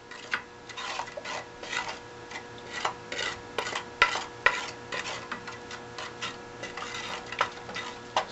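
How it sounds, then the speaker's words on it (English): Sausage gravy being stirred with a wooden spoon as flour is shaken in, giving steady scraping and stirring with light clinks against the pan and a soft sizzle underneath, without talk. "Just shake it in with a tablespoon and stir it in. Wooden spoon is nice here."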